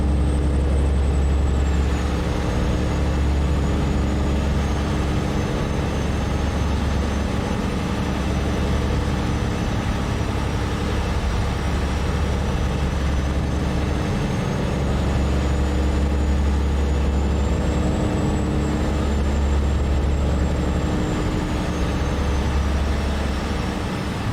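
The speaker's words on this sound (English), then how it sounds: "I want to say this is the default sound for this engine" A low, steady truck engine drone from American Truck Simulator runs throughout, continuous and unchanging with a faint high whine above it, no talking.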